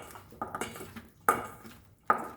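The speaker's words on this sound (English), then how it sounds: "I am going to crush this into this, so it gets a nice aroma of onion to this" A white onion is crushed into a pot for mutton trotter paya soup, giving a few sharp clatters and knocks against the pot with quiet gaps between, close and fairly loud, with no talking.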